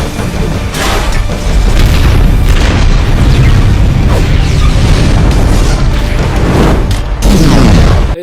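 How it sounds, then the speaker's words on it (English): An explosion in an Iron Man film scene: a heavy, loud boom with a rumbling blast tail that keeps roaring for several seconds, then a second burst near the end before it cuts off. "not sure how this explosion didn't burn him alive"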